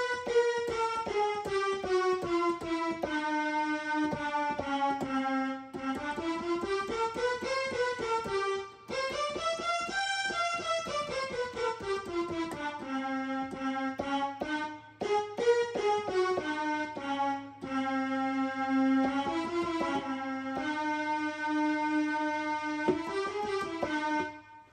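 A Yamaha PSR-EW425 keyboard plays a sustained melodic line under a custom manual scale tuning, its bright tones gliding and stepping steadily over a low held drone, clear and close with no talking.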